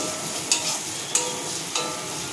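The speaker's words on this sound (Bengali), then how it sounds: "দিচ্ছি নারকেল কুচি, 2 মিনিট মতন নাড়াবো।" Grated coconut fries in a pan while a spatula stirs it, giving a steady low sizzle broken by three sharp scraping clicks at even intervals, close and with no voices.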